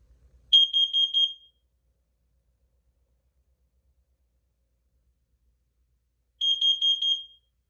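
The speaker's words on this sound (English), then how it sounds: "so this will be alarming in CO just momentarily" A smoke alarm on a demo board sounds its carbon monoxide pattern: a quick burst of four shrill, close beeps, a long silence, then another burst of four.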